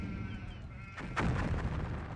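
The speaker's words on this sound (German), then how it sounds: "Oh, das ist echt viel Artillerie." Cannons fire in battle in the strategy game ANNO 1503, heard as a dense rumbling barrage with a sharper boom partway through, steady and loud.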